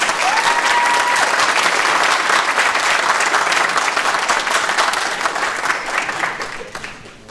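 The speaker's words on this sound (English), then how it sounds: "I think we can give them another round of applause," A crowd at a graduation ceremony claps in a sustained, even roar of applause that gradually fades toward the end.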